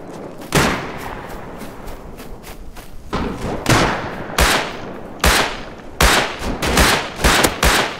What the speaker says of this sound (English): Boom, someone shooting you behind you.